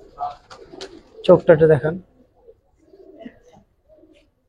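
Giribaz and coloring pigeons give a short, close burst of throaty cooing after a man's brief remark, then faint rustling follows.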